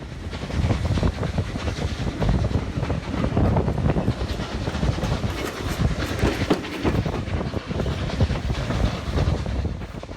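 On the Keighley & Worth Valley heritage railway in its centenary year, the Flying Scotsman steam train rumbles past loud and close, with continuous clattering wheels and wind buffeting the microphone, and no voices heard.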